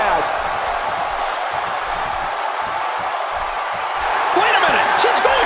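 A roaring arena crowd in the WWE 2K17 wrestling game during a women's iron woman match, sustained and loud beneath a commentator's voice, swelling with sharper cheers near the end.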